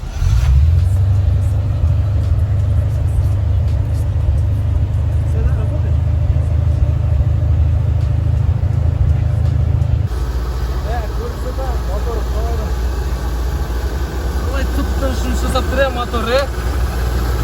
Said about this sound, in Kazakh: Сіздерге қазір мен двигателі, яғни мотор қалай жұмыс істейтінін көрсетейін.